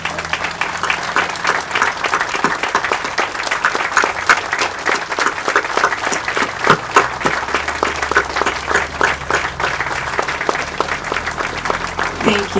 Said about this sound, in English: please stand if you are able so that we may applaud you